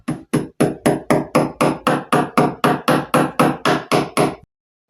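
A hammer drives a nail with about fifteen evenly spaced, sharp metallic strikes, loud and close in a steady rhythm before stopping abruptly.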